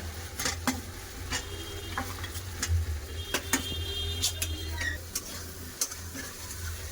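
Fried potatoes are stirred into cooked spice paste in a pan, with repeated sharp scrapes and clacks of the spatula over a soft, low sizzle.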